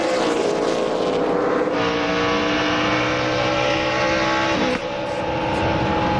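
Stock cars racing at Sonoma in the 2002 Snap On Tools 200, a loud continuous engine roar with a high-pitched whine that shifts as cars pass, one sharp change near the end.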